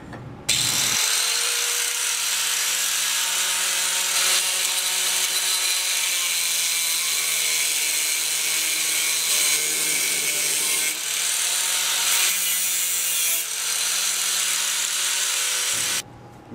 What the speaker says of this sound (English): I'm going to be cutting it square to fit in here, because I need a washer that will not move around